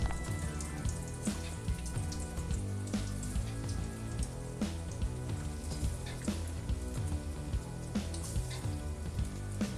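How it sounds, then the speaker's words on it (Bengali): Egg kabiraji, Kolkata-style, frying in a pan on very low heat, a steady close crackling sizzle with small pops running throughout, no voices over it. "খুব অল্প আঁচে ভাজতে হবে"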